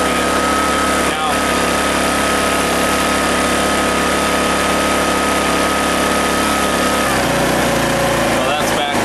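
A Honeywell HW2000i tri-fuel inverter generator running at about 4,500 RPM with economy mode off: a loud, steady high-pitched engine drone close by, shifting pitch briefly near the end.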